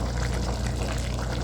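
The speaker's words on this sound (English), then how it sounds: "I'm just gonna pour this off up in there." Canned food poured from a small can into a crockpot, a short, steady wet pouring sound heard alone and fairly quiet.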